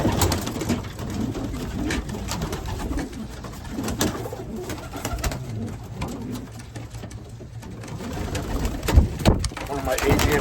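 Racing pigeons coo in soft, repeated throaty calls around a loft, close by and overlapping, with light rustling and handling noises mixed in.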